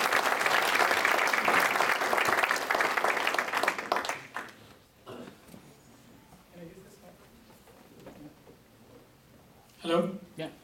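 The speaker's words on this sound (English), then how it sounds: "Let's give him a big round of applause." Audience applause welcoming an entrepreneur to the stage at a talk, loud and dense for about four seconds, then fading to quiet room noise with a voice speaking near the end.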